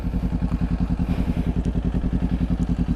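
A motorcycle engine idles close by, its rapid steady putter pulsing evenly throughout with no talk over it.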